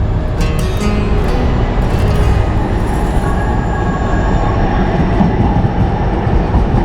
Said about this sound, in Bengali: এই যে এখন একটা মেট্রো এলো